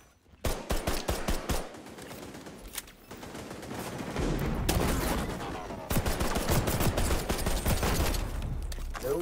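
An M4 rifle fires in the XDefiant video game, with sharp rapid bursts at first followed by long sustained automatic volleys, loud and close, with mixed game noise underneath.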